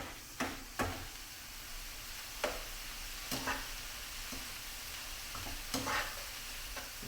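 Burrito meat with taco seasoning frying in a pan, a faint steady sizzle broken by several sharp scrapes and clacks of a utensil stirring it.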